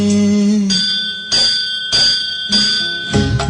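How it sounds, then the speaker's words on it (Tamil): A Ganesha temple bell rings repeatedly in a steady rhythm, bright metallic strikes about every half second, loud and close amid ringing Tamil devotional music. "கோயில் மணி ஒலிக்க"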